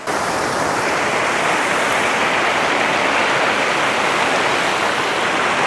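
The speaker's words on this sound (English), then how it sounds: "Now it's time to cross the river." River water rushes steadily around someone crossing it on foot, a loud, continuous broadband roar of flowing water heard up close with no pauses or talking.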